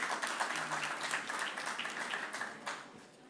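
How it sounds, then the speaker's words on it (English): A conference crowd applauds steadily for a few seconds as a speaker comes to the podium, a dense wash of clapping that fades slightly toward the end. "A round of applause for him, please"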